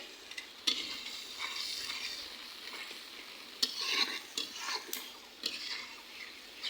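Food fries in a pan while being stirred, with a soft continuous sizzle and repeated scraping, clinking strokes of a spoon or spatula against the metal.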